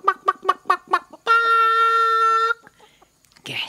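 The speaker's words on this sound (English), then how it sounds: "in the farmyard, Mummy Hen was very happy." Hen clucking in a farmyard, five quick rhythmic clucks followed by a long drawn-out crow-like call, then faint scratchy noises and a burst of rustling at the end.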